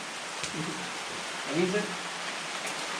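Steady rain hiss fills the clip, with a few faint drop taps and a brief voice speaking over it.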